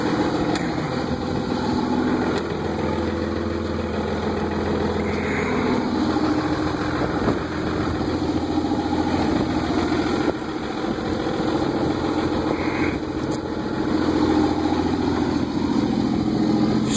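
Cummins 24-valve diesel engine idling after a cold start, fitted with a 4-inch MBRP straight-pipe turbo-back exhaust, giving a steady, loud low rumble with a constant mechanical clatter, close by and unbroken, with no voices.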